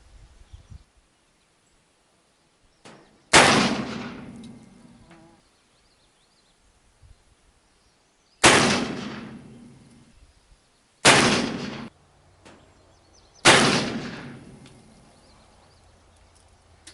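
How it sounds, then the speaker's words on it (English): A Colt Walker black powder revolver fires four loud, booming shots outdoors, each followed by a long rolling echo. The shots come at irregular intervals, with quiet stretches between them. "We'll fire a few more down there."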